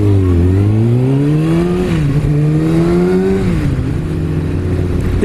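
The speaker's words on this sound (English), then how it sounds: "It just sounds like you're revving it a hell of a lot compared to what I'm" A 2016 Kawasaki Ninja ZX6R engine revs hard and close, its loud high-pitched whine climbing and dipping through several throttle swells without pause.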